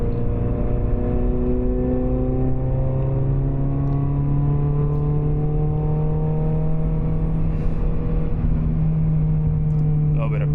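A small, modest car accelerating, its engine note climbing steadily in pitch as it speeds up, heard continuously and close for about ten seconds.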